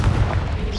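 Confringo fire spell detonating in Hogwarts Legacy, a single loud, low, booming blast with a rumbling tail that fades over less than a second.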